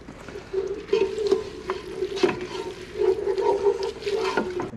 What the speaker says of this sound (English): And then give that a good stir.